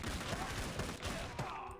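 Gunfire crackles in the video game Dead Ahead: Zombie Warfare as a dense, steady fusillade of rapid shots at moderate volume, continuous through the short stretch.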